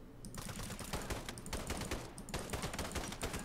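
Continuous rapid gunfire from a recoil-heavy weapon in the video game Sniper Ghost Warrior 3, dense overlapping shots rattling throughout at moderate level with no talking.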